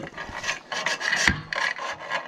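A plastic piston slides and rubs inside a 3D-printed cylinder of an engine being rebuilt, a series of close, rhythmic scraping strokes with short pauses between them.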